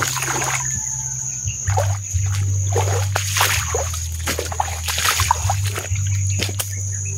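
Creek water splashes and sloshes nearby in uneven bursts, like wading through a shallow creek, over a steady low hum.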